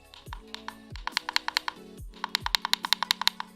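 Crisp, rapid clicks from the keys of a new streamer keyboard being typed on, close and loud, coming in quick bursts with short pauses and no talking over them.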